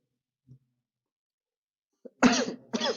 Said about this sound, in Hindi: बड़ी खांसी है